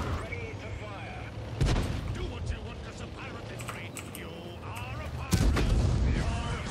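Tank cannon firing in World of Tanks, two heavy booming shots several seconds apart amid game noise, keyboard clicks and a voice talking.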